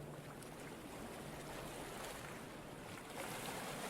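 A boat engine's exhaust in the Stormworks game gives a steady, dense rushing roar that holds at a constant level and swells slightly near the end, with no voices.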